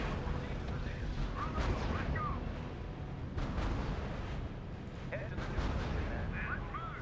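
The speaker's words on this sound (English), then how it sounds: "all of our tanks being fired upon by the Italians is bad" Battlefield fire in the real-time strategy game R.U.S.E. as Italian forces shell tanks: continuous rumbling artillery and gunshot bursts that roll on without pause, with faint voices mixed in.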